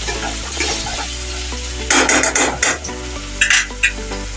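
A masher and spoon working tomatoes and onions in a hot pan for pav bhaji, with sizzling frying under scraping, squelching strokes and a few louder clanks against the pan.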